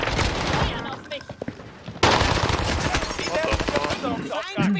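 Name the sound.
gunfire in the video game Warzone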